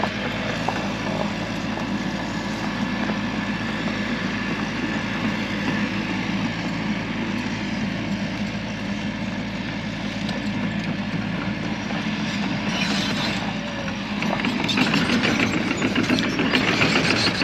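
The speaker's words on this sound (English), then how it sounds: "we got a little some kind of track hoe and some kind of skid steer type deal" A small tracked excavator and a skid steer run steadily while slowly expanding a dry pond, a continuous low engine drone with a mechanical rumble that swells louder toward the end, with no talking.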